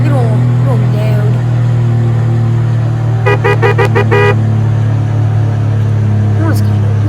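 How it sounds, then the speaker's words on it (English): Weak car horn in the Roblox game GV, sounding as a rapid burst of several short toots over a steady engine hum and clear talking. "Horn's kind of weak on this car."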